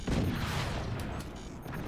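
Cannon fire in the video game Forts, a heavy boom at the start followed by a rumbling, crackling decay over about two seconds, with no talk.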